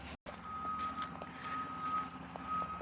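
Kubota BX23S compact tractor backing up, its reverse alarm sounding in repeated steady beeps over a low engine rumble, close and clear.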